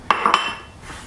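Mushroom stems go into a hot soup pot, a few sharp metallic clinks of utensil against pot landing close by in quick succession, then a soft fading clatter with no voices.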